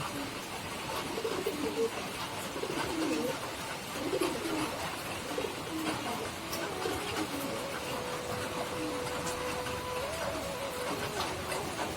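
A flock of pigeons sitting together in a garden coo in low, soft, repeated phrases, with a steady background hum and a faint tone running underneath.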